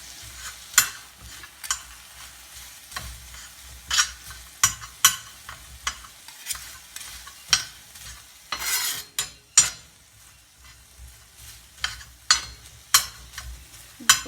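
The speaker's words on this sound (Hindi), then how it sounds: "तवे के ऊपर भूनते जाएंगे।" Chicken shawarma pieces frying on a hot griddle under a soft steady sizzle, with repeated sharp clacks of a utensil scraping and stirring at an irregular pace.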